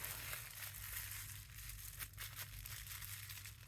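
A plastic bag being crumpled by hand for coffee-dye texturing: continuous crackly crinkling and scrunching, close and fairly quiet, with no voices.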